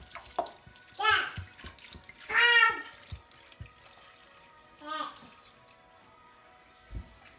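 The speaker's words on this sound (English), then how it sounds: "we're going to get some red wine and we're going to pour it right over." Red wine poured from a bottle over chicken pieces in a container to marinate for coq au vin: a few short, close gurgling pours separated by quiet pauses, with faint talk.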